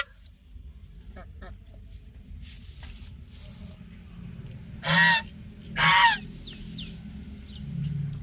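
A caged duck or goose, a large duck sitting on eggs, gives two loud, harsh honks close by against a quiet background with faint rustling.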